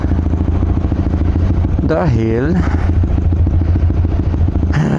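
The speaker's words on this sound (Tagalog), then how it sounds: "Painitin lang natin yung motor na saglit" A Yamaha R15 v3 motorcycle warms up at a steady idle, its engine hum running close and constant while someone talks over it throughout.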